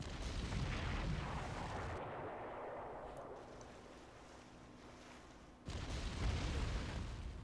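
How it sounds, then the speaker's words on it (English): Artillery fire in the video game Panzer Corps: muffled booming bursts swell and settle at the start, then a fresh blast hits near the end, all fairly faint with a low rumbling tail. "Oh, effective artillery hit."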